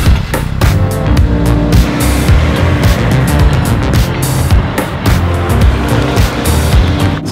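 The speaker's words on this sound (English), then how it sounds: "So this is my first time driving a Geo Prizm GSi in about 20 years." A Geo Prizm GSi under way, heard from inside the cabin: a steady loud engine drone with a low harmonic hum and road roar, rising and easing slightly through the drive.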